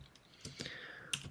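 A few soft, quiet keystrokes tap on a computer keyboard, irregular and sparse clicks heard close by with no talking.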